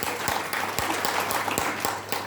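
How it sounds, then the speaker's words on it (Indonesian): Church congregation at a Good Friday service clapping together, a steady dense applause with a loose rhythmic pulse filling the room, fairly loud and with no talk over it. "Tepuk tangan buat Tuhan Yesus."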